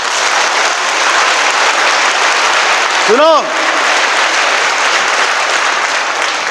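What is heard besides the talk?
audience applause during sermon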